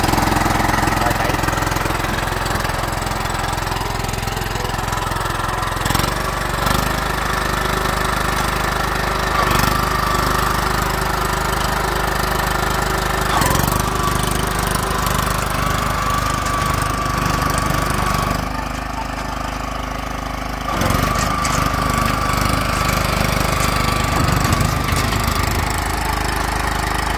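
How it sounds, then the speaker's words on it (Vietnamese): A motorized cargo cart's engine runs close and loud with a steady knocking chug, easing briefly about two-thirds through before picking back up, with no talking. "Máy nổ rất là chắc."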